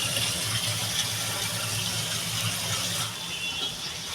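Gandal leaves, picked the day before and a little wilted, rinsed under a steady stream of running water in a sink, a continuous soft gushing splash that stays even throughout and eases slightly near the end.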